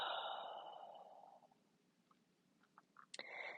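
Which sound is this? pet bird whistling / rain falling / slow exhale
slow exhale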